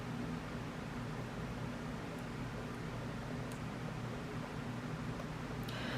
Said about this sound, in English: If you hear a fan in the background, I apologize